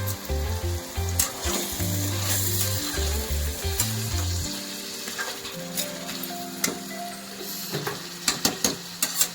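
Vegetable biryani masala with garam masala frying in a pan, a steady sizzle under a low droning hum at first, then spoon stirring and scraping that grows into sharper clinks toward the end, no talking.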